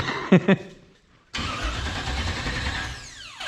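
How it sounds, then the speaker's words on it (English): A 1946 Chevy rat rod engine, garage built, being cranked over on the starter without ignition to check oil pressure: two sharp clicks, a pause, then a steady, loud mechanical whirring spin that continues to the end. "I'm gonna spin it and see if it gets oil pressure"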